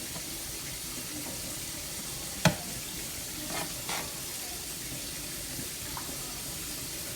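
Tuscan shrimp sauce simmers in a pan with a steady, low sizzling hiss and a few brief clinks, fairly quiet and without talk.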